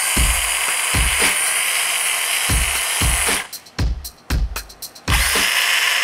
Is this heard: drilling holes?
yes